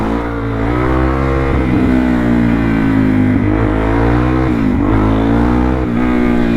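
A supermoto motorcycle engine runs loud and close, its rough idle rising in several throttle blips and revs that fall back.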